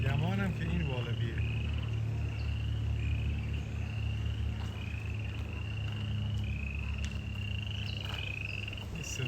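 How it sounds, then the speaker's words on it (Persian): Outdoors at the San Diego Zoo Safari Park, insects chirp in repeated high trills and frogs croak steadily in the background, a dense continuous chorus with a low hum underneath. "این صدای جیرجیرک نمیدونم واقعیه یا اینجا."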